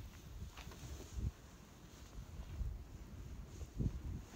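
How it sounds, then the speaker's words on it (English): Gusty wind buffets the microphone at an outdoor shooting range in Idaho, low rumbling bursts rising and falling irregularly, fairly faint with no talk. "but the wind out here is just awful."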